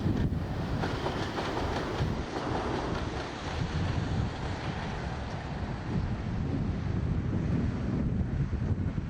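A passenger train made up of a West Coast rake, top and tailed with locomotives at each end, running empty toward Craigentinny depot in Edinburgh, a steady loud rumble rolling past with heavy wind buffeting the microphone throughout.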